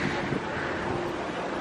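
Strong wind roars and buffets the microphone in a constant, loud rush at night at EPCOT, with no other sounds standing out.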